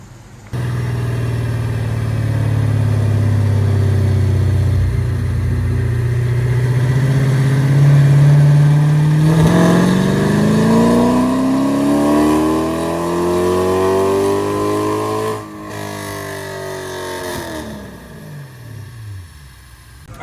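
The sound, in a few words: cammed 6.4 Hemi engine revving during dyno pull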